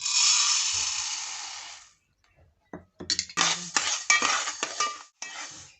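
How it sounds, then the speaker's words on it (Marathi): Fenugreek seeds being dry-roasted in a pan for methi laddu: a burst of sizzling hiss first, then quick scraping and clinking of a spoon against the metal pan, near and fairly quiet. "आता हे मेथी दाणे भाजून घेते"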